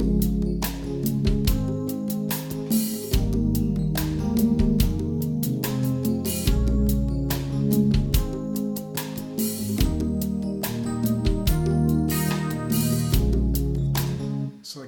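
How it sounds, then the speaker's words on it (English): A section of the song plays back as a full mix with programmed drums added, steady kick and snare hits driving under sustained chords and melody, loud and continuous throughout. "So then that same section with the drums added sounds like this."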